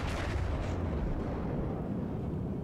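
Heavy warship guns boom in a World of Warships naval battle, a dense, rumbling barrage of loud low blasts that rolls on continuously with no pauses.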